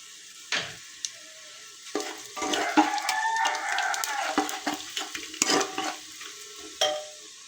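Panch phoron seeds crackle and sizzle in hot oil for a beef curry, with scattered spoon knocks against the pan, a busy frying burst in the middle, and a faint rooster crowing in the background.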